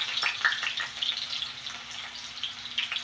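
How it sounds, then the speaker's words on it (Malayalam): Onions fry in a pan for a ginger curry, a soft, continuous crackling sizzle with small pops throughout, fairly quiet and close, with no talking. "അപ്പോൾ നമുക്ക് ഇച്ചിരി ഉള്ളിയും കൂടെ വറുത്ത് പോരാം"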